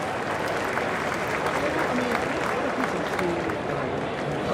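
A crowd at a Chicago White Sox vs Chicago Cubs spring training baseball game in Mesa applauds steadily, a broad wash of clapping and cheering that stays even throughout, with broadcast commentary talking over it.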